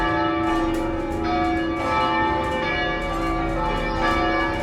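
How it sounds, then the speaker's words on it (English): Church bells in New Orleans ring steadily with layered, sustained tones that overlap and hum, filling the space with a rich, continuous peal. "that's the church bells ringing, really pretty"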